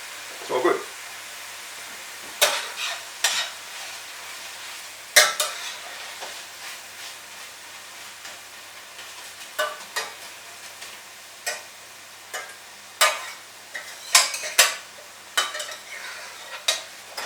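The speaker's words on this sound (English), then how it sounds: "We don't need to go too mad with the frying of the bacon." Bacon frying in a hot pan while chicken casserole is cooked, with mushrooms and tomatoes simmering nearby; sharp clanks and scrapes of stirring and utensils on the pan sound repeatedly over a low, steady sizzle.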